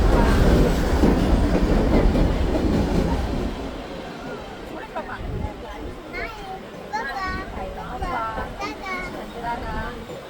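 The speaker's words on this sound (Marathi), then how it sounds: "मुंबईमध्ये फिरायचं म्हणजे आपल्याला मुंबईची लाईफलाईन लोकलमधूनच जावं लागतं." A Mumbai local commuter train runs with a loud, steady rumble and rail clatter that eases after the first few seconds, while people and children talk inside the carriage.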